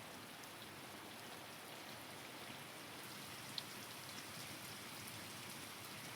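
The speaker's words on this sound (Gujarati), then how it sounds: "જો આ વરસાદ કેટલો આવે છે." Steady rain falls continuously, a dense even hiss of drops with no talking, moderately loud and uniform throughout.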